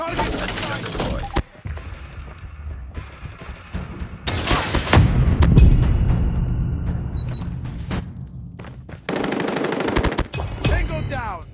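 Bursts of automatic fire from a deployed sentry gun in Call of Duty Mobile, loud and close, several sustained volleys broken by short pauses, with game sound effects and a radio-style voice callout mixed in.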